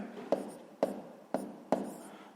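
A pen writing out a math solution for a sixth-grade exercise, four distinct strokes or taps at an even pace on paper, close and fairly quiet, with no talking.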